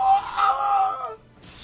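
A fighting-game character's scream in Soulcalibur VI, a single drawn-out, high wailing cry about a second long that cuts off abruptly, fairly loud.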